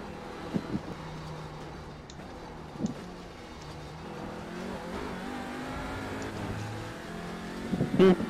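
A race car at Snetterton drones along with its engine rising and falling through revs, with a loose metallic rattle that may come from a dropped valve and a few sharp knocks toward the end.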